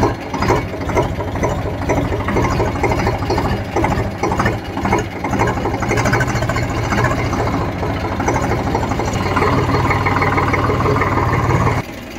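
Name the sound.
tractor engine idling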